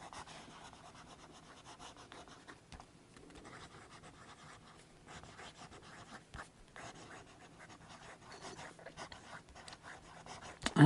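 A Noodler's Neponset fountain pen scratches and glides over paper in soft, irregular strokes, faint and close, with brief pauses between words.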